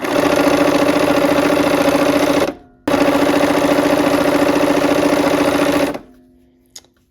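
A sewing machine stitching quilt pieces for a Wild Goose Chase block, running in a fast, steady mechanical whir for about two and a half seconds, stopping briefly, then running again for three seconds before falling silent with a small click.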